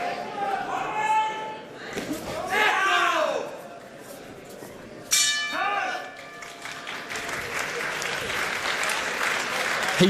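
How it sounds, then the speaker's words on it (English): Spectators in a boxing corner at a professional bout cheer and clap in loud bursts, with a bell ringing out partway through and voices talking over the crowd noise. "The Italian corner just madly cheering everything that their fighter does"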